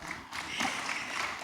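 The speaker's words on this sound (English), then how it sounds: "Clap for those who already have." Brief burst of audience applause at a capital markets talk, a steady wash of many hands clapping together for about a second and a half, moderately loud.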